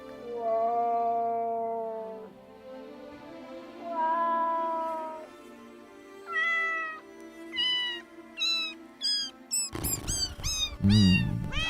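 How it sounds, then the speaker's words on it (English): A cat meows repeatedly in drawn-out, rising and falling cries, close and clear, growing shorter and more insistent, ending with a burst of louder, rapid meows over a scuffling noise. "How many meows do we have here left?"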